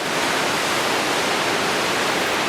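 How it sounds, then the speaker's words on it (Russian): Dense, steady roar of white-water rapids on a wild river in remote mountain taiga, a broad continuous rush filling the sound with no pauses and no voices. "Вон там белая вода, дурнина."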